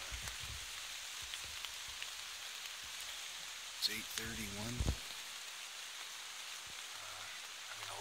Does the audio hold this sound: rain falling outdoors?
yes